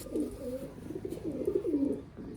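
Pigeons coo repeatedly in soft, throaty rolling phrases, close by, with a continuous murmur of calls overlapping across the whole stretch.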